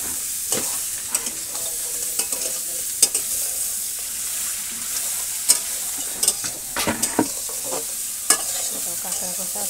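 Crab pieces sautéed in a pan in a village kitchen hiss with a continuous sizzle, while a spatula scrapes and knocks against the metal in irregular, close taps.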